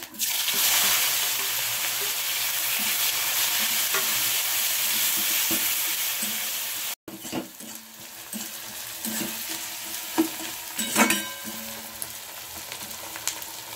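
Chopped onion fries with whole-spice tempering in hot oil for a fish curry. A loud, dense sizzle fills the first half, then falls to a softer crackle broken by stirring clinks and scrapes, with no one talking.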